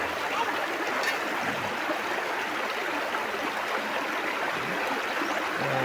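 Small, shallow, clear stream flowing steadily, a continuous close babble and trickle of water over rocks and leaves with no pauses.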